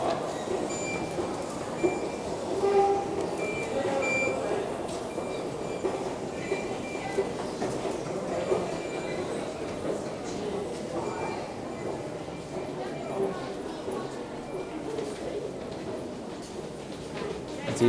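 A London DLR train sits at platforms 1 and 2, giving a steady rail rumble with faint clicks and hum amid station ambience and a few distant voices.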